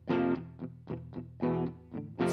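A recorded electric guitar played through a tone preset in the AUv3 ToneBridge app sounds heavy and distorted, with a series of loud sustained chords and short stabs in an uneven riff.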